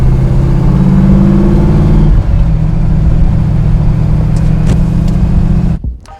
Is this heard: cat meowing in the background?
no